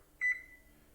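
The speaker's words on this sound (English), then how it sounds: "And I'm going to put the timer on that for" An oven timer being set gives a single short electronic beep, a clear close tone with a brief double pulse that fades within half a second over a quiet room, with no talking.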